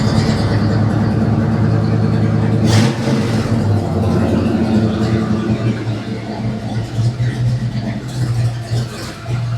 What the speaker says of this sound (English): It started up so much better.